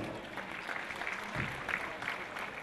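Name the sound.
audience applause welcoming a priest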